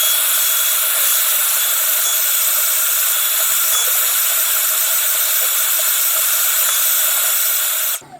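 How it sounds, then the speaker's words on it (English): A hair dryer running on full power to heat the screen of a Samsung Galaxy S10, a loud, steady airy hiss held without a break for about eight seconds, then cut off abruptly at the end. "I'm going to put the hairdryer on medium, or do you know what? I'm going to put it on full power."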